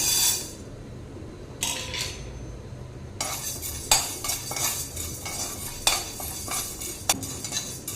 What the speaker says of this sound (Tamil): கடலைப்பருப்பு நல்லா செவக்க வருவட்டுருச்சுங்க